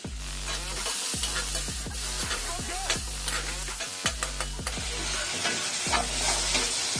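Tomatoes go into a hot, sizzling pan for soya chilli manchurian, with a steady frying hiss and stirring scrapes running beneath a loud, rhythmic low-pitched musical beat.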